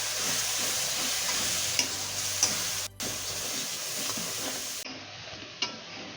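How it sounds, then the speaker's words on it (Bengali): Masala spice paste with cumin powder and a splash of water sautéing in a pan for chicken kaliya, giving a steady close sizzle and hiss with soft stirring scrapes and a brief break near the middle. "জিরের গুঁড়োটা দেবো দু চামচের মতন দেবো সামান্য একটুখানি জল আর দিয়ে কিন্তু মশলাটাকে কষাবো"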